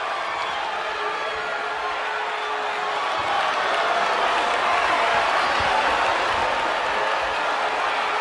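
A dense, steady arena crowd roars and cheers throughout a WWE 2K22 wrestling match, a continuous wash of noise that swells slightly in the second half.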